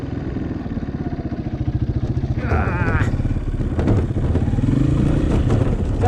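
A stock Honda CRF230 dirt bike engine runs smoothly at a steady idle with some revving, close and fairly loud throughout, while someone talks over it.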